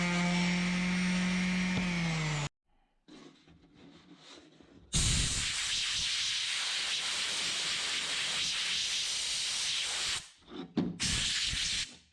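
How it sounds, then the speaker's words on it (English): Compressed air blasts across a freshly sanded wooden cocktail smoker top: a loud, steady hiss runs for several seconds, drops briefly, then a long sustained blast follows before cutting off, with short bursts at the end. "I'm going to hit it real quick with a sander and then some compressed air"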